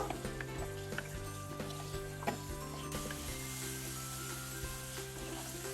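Chicken cooking in a pan with a fried paste of cinnamon, cardamom, ginger, garlic, onion, chili powder and turmeric for a tomato chicken curry, giving a steady close sizzle with soft stirring scrapes and no talk.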